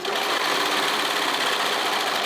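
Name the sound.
serger sewing swimsuit leg seam with elastic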